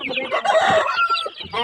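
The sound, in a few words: backyard chickens clucking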